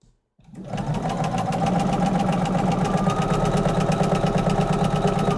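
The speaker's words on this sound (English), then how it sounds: "And I'll sew one of these completely, and then we'll call it a night." A sewing machine starts up and runs steadily, stitching with a fast, even mechanical rattle that holds constant and fairly loud throughout.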